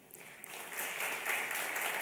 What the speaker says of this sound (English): This is how you applaud.